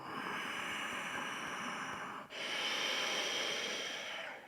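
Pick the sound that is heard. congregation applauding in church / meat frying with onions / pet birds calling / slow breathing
slow breathing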